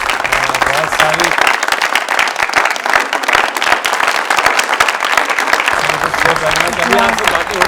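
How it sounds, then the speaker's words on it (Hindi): A television studio audience applauds a guest on a talk show, a dense, loud and steady burst of many hands clapping that holds throughout, with a host's voice briefly heard over it at the start and end. "तालियां इमराना मकसूद साहिबा के लिए बहुत सारी"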